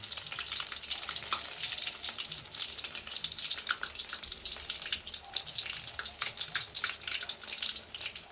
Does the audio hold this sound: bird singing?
no